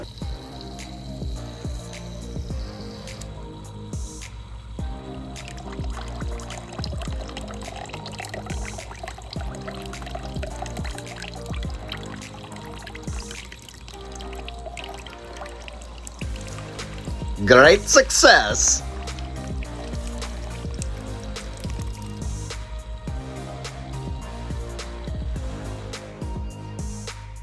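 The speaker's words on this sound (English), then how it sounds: "I added distilled water, and it was time to test the water feature." Distilled water trickles through the water feature of a vampire crab tank, a soft steady dribble under background music that swells into a brief louder splashing burst midway, with a short spoken exclamation.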